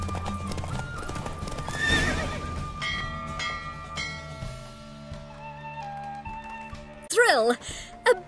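Galloping horse hooves in the video game The Witcher III during a horse race near Novigrad, a rhythmic clip-clop under game music and bells, ending with a loud whinny near the close; a voice speaks over it.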